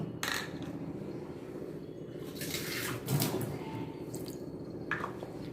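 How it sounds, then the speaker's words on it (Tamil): Water is poured and trickled into a moong dal batter in a bowl while it is mixed for a vegetarian omelette, giving close, uneven splashing and dripping with a few louder sloshes. "இப்போ லைட்டாக நம்ம தண்ணி விட்டு இது கலந்து வரணும்"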